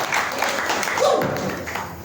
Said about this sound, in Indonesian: Tepuk tangan buat Tuhan Yesus kita yang luar biasa.